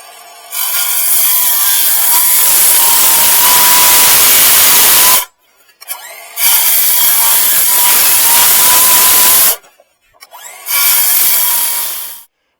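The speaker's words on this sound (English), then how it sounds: "I'm going to take my saw again, and I'm going to make a series of cuts." A hand saw makes a series of cuts into a timber-frame knee brace, loud rasping strokes in three long sustained bursts separated by short pauses, close to the listener.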